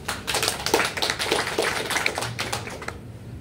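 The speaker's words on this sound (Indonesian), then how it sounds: "Kasih tepukan yang ini." Audience applause at a business seminar, a dense patter of many hands clapping steadily for about three seconds before tapering off.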